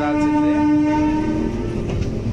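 A DEMU train pulls in toward platform 2 at an Indian railway station, its loud sustained horn sounding close over the rumble and clatter of the moving coaches.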